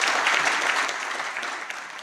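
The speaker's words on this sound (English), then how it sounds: "Another round of applause to that," An audience applauds at a dialogue event on vaccines in Africa, a dense, steady clapping that fills the whole stretch and eases off slightly toward the end.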